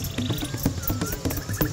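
Frogs croak in a fast, rhythmic chorus of short, loud pulses, close by, with insect buzzing underneath throughout.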